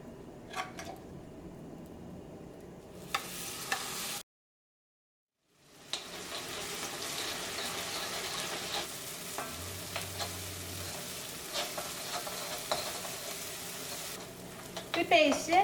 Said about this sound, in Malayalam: ഇഞ്ചിയും വെളുത്തുള്ളിയും സവോളയുടെയും കൂടിയിട്ടുള്ള പേസ്റ്റ് നന്നായിട്ട് എണ്ണയിലിട്ടിട്ട് വഴറ്റിയെടുക്കാൻ പറ്റുള്ളൂ